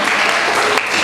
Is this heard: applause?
yes